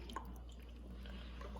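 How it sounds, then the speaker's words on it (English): Lime juice splashing into a pot of simmering coconut broth for cilantro shrimp, heard as a few faint liquid drips and a soft splash over a steady low cooking hum. "we're just gonna use some regular real lime juice. Do a couple splashes."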